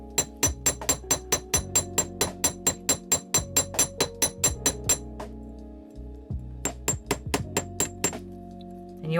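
A steel hammer strikes copper wire ear hooks in a rapid run of sharp metallic taps, about twenty evenly paced blows, then a short pause and a second burst of strikes, close and distinct with no talking.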